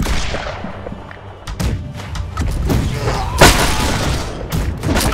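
Dense naval gunfire from an enemy ship in Blackwake, a pirate-era naval combat game, with heavy thuds and booming shots layered in a constant battle din, including one louder blast near the middle.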